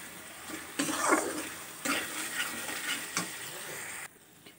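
Pabda fish curry masala with potato and eggplant being stir-fried with salt in a pan, a soft sizzle with a few bursts of scraping and stirring, close and steady, no voices.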